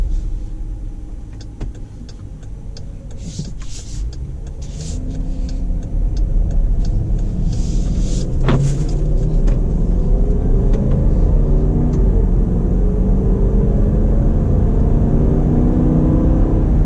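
A deep 5.7L Hemi V8 rumble builds steadily as a 2019 Jeep Grand Cherokee Overland accelerates, heard from inside the cabin, growing louder and holding a strong low drone.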